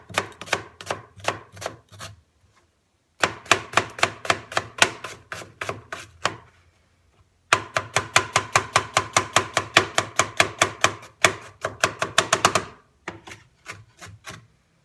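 A Tojiro DP santoku knife, 170 mm, chopping through an onion on a board, with fast, crisp rhythmic strokes in several bursts separated by short pauses.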